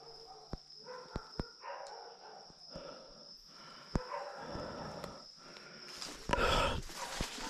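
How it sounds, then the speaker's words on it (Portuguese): A dog barks several times at a moderate distance, mixed with sharp clicks and a thin steady whine in the background. "cachorro não para de latir"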